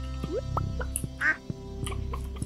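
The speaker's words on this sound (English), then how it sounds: "we can go say hi to the chickens and the ducks" A duck in Stardew Valley gives a single short quack midway, clear above a soft bed of farm game music and small clicks.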